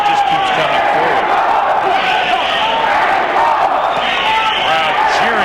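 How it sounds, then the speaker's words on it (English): A dense arena crowd at a boxing match cheers and roars continuously, loud and unbroken, with a commentator speaking over the noise. "Crowd cheering for Lopez, trying to get him going."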